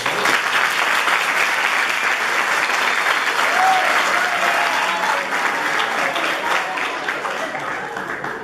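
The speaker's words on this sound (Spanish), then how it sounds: "les vamos a regalar un aplauso a ellos." Sustained applause from a conference audience honoring teachers, a dense, steady wash of many hands clapping close and loud throughout, with no speech over it.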